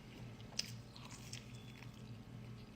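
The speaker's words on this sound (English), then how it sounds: "Yeah, I sort of like amplify the chewing sound." Someone chews meat off a bone close to the microphone. Quiet, repeated biting and wet mastication sounds form a steady rhythm over a low background hum, with one sharper crunch near the start.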